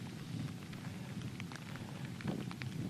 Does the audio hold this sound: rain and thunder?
yes